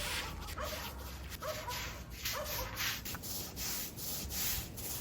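A scrub brush rubs dirt off a roof surface in repeated strokes, a raspy scratching that comes and goes every second or so, fairly faint, with no talk.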